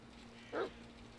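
A dog in a Pathfinder video game gives a single short bark, faint and brief over a quiet background hum.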